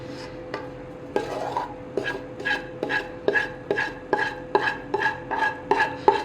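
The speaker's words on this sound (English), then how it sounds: "Scrape out all that delicious candy." Spatula scraping thick, sticky brown sugar butterscotch candy out of a candy pan, a steady series of about a dozen rhythmic scrapes and knocks, close and fairly loud, with no talking.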